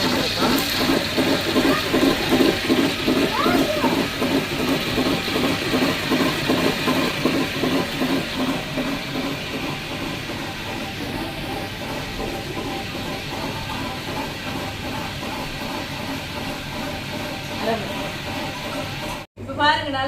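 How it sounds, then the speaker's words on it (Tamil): A wet grinder grinding urad dal churns steadily, dense, loud and close, with a faint hiss over it before a brief cutoff near the end. "இப்போ பாருங்க, நல்லா அரைப்பட்டு நண்பர்களே உளுந்து"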